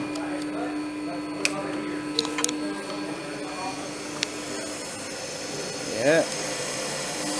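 An electric motor on a mechanical trainer, driven by a retrofitted VFD, whines steadily with a faint tonal hum and a few sharp clicks, rising briefly near the end while a person talks nearby.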